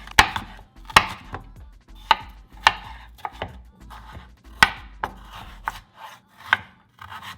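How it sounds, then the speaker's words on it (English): Knife chopping red pepper, carrot, cucumber and green onion into julienne strips with a cheap, dull blade, giving a close series of sharp board taps in an uneven rhythm, alone without talk. "So I'm just gonna chop those up into, I think it's called like julienne cut"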